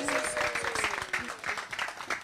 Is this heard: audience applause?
yes